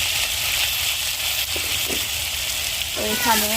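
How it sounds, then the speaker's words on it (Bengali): New potatoes fry in a pan with salt and turmeric, giving a steady, close sizzle and crackle throughout, with a brief voice near the end. "আলুগুলো একটু আগে লবণ আর হলুদ দিয়ে ভালো করে ভেজে নিই"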